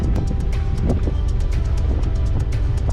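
A boat running on both engines gives a steady, close drone, with wind buffeting and water splashing over it and regular rhythmic knocks, no talk.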